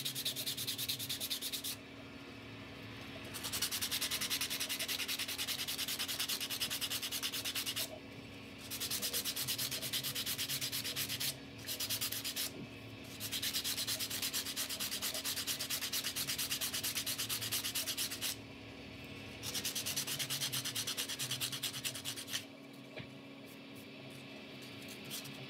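60 grit sandpaper rubbing a hand-carved wooden topwater lure, steady close scratchy strokes in several long passes separated by short pauses, with a faint hum underneath.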